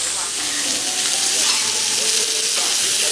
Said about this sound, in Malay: yang ni dia bakar sikit dulu. Dia grill dulu sikit.